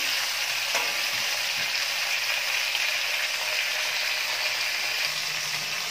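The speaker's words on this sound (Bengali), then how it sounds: "সবজিগুলোকে প্রথমে একটু ভালো করে একটু ভেজে নিচ্ছি" Mixed vegetables sizzle steadily in hot oil in a pan for khichuri, a loud, dense, continuous frying hiss with a faint scrape or two, no voices.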